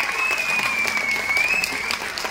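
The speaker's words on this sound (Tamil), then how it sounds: "இந்த கைத்தட்டல்கள் எல்லாம் வந்து" Audience applause at a film success celebration, a dense steady clatter of clapping hands filling the room throughout, with a faint sustained whistle or tone running over it.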